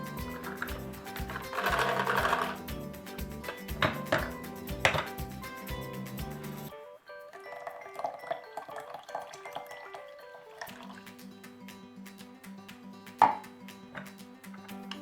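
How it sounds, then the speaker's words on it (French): A Tupperware hand-crank chopper being turned, rapid rhythmic mechanical whirring and clicking in bursts with a pause midway and a sharp clack near the end, under quiet background music. "Et redonner quelques tours de manivelle."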